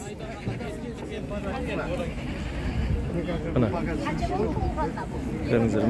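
Goats, a Kazakh and Saanen cross, bleat repeatedly amid a crowd of people talking nearby at a goat show in Shymkent, the wavering calls mixed into steady background chatter.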